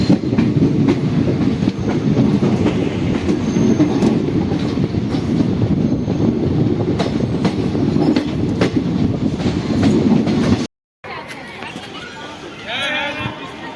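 Netaji Express train at Kurukshetra Junction, a loud continuous rumble with rhythmic wheel clatter that cuts off abruptly, followed by quieter station ambience with a faint squeal.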